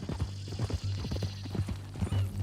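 Horse hooves clip-clopping in the video game Red Dead Redemption 2, a steady rhythmic series of close, hollow knocks at a walking pace with a low hum beneath.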